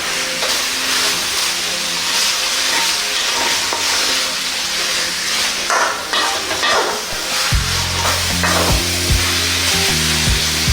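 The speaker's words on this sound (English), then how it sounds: "we're going to cook this for about 12, 13, 15 minutes, stir it around" Beef simmering in a pot for a Sri Lankan recipe, with a steady soft sizzle and hiss, then louder scraping and clattering as it is stirred near the end.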